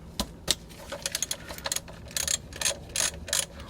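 A hand ratchet clicks in short, irregular bursts while loosening a 14 mm engine oil drain plug on a Toyota 5S-FE, crisp close metallic ticks separated by brief pauses.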